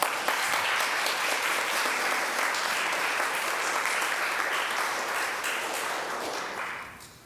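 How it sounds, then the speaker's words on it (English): Audience at a Presbyterian women's fall gathering breaks into sustained, fairly loud applause that holds steady for several seconds before tapering off at the end. "Give him another round of applause"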